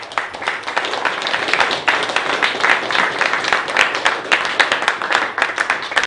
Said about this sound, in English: Maybe you all join in a round of applause to give our athletes of the Bahamas.